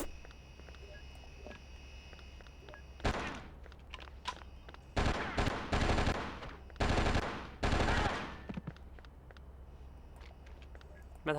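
Automatic gunfire in the video game Oni, with a single shot followed by several loud, rapid bursts in quick succession over a quiet background hum.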